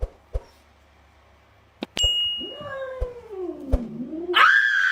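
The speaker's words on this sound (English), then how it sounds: "The time a cat broke into my house and I thought it was a bird." A cat inside a house lets out a long, wavering yowl that bends down and then climbs to a high cry. Sharp clinks and knocks come just before it. The sound is close and moderately loud.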